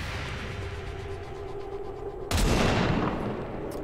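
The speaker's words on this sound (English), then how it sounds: "It's a shotgun" A single heavy shotgun blast goes off partway through in XCOM 2, a sharp broad burst that rings out and decays over a steady backdrop of game ambience.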